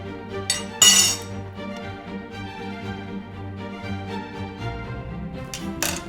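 Salad tossed in a too-small bowl for Hamptons-style summer hosting, giving repeated light clinks and clatters of utensils against the bowl, with a couple of sharper knocks near the start and end, close and fairly loud.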